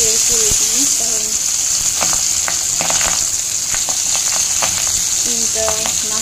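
Fish frying in plenty of hot oil during a home lunch cook, a steady bright sizzle running throughout with scattered crackles and pops, with a voice speaking over it in places.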